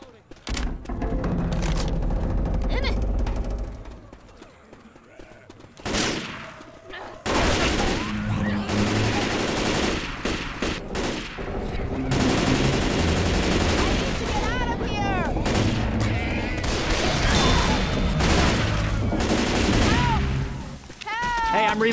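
Railgun and other gunfire in the Left 4 Dead 2 Dark Carnival campaign, dense loud volleys and booms running nearly continuously, with players talking over the shooting.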